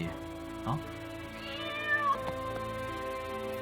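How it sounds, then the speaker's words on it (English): A cat meows a few times, a short cry standing out over background music or talk, fairly close. "The fact that the cat went looking for him."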